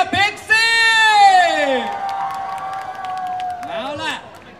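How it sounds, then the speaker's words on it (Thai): An audience at a PiXXiE fan celebration party in a shopping mall cheers and claps, with loud high-pitched whoops and shouts riding over a steady bed of applause. "ปรบมือกับพิกซี"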